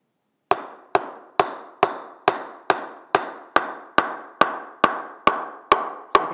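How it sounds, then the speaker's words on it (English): Impala Pendulum English willow cricket bat being tapped with a ball or mallet: a dozen or more sharp, ringing pings at an even, steady rhythm, close and clear with a short resonant decay after each strike. "We'll give it a bit of a tap, show you exactly where the centre is, show you how good these rods actually are and how well it pings off."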